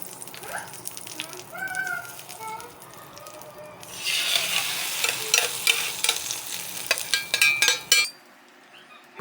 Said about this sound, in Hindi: और जब ये ज़ीरा फ्राई होने लगा तो बस अब फ्राई हो गया है